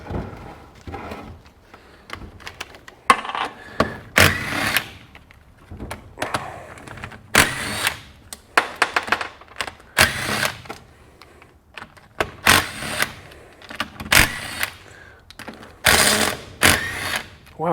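Repeated ratcheting and clicking of a hand wrench loosening bolts while a 1993 Yamaha YZ250 two-stroke motor's top end is taken apart, in short bursts separated by pauses, with clinks of small parts.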